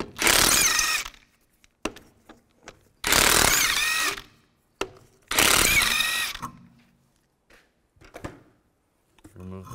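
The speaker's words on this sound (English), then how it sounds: "take the lug nuts off." A power tool with a 19 mm socket spins lug nuts off a 2005–2010 Chevrolet Cobalt wheel in three loud whirring bursts, each about a second long, separated by quieter clicks and handling noise.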